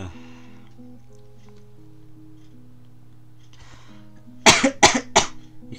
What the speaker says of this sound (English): Having a little coughing fit.